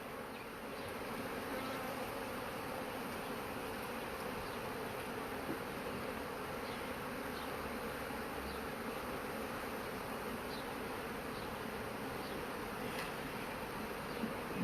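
Dense, steady buzzing of many honeybees at a hive during swarming, a continuous close drone lasting throughout with faint higher whines of individual bees passing near.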